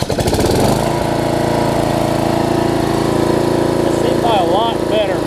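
A Murray riding lawn mower engine sputters briefly as it cranks, then settles into a steady, loud, close running drone that continues throughout.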